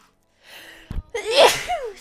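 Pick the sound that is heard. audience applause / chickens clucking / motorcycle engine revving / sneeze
sneeze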